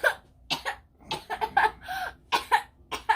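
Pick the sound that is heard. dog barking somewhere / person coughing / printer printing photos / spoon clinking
person coughing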